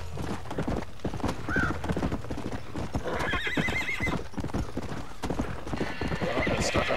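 In the video game Red Dead Redemption, rapid hoofbeats of a galloping horse clatter steadily as it whinnies a couple of times, with game sound effects and a voice talking over the busy mix.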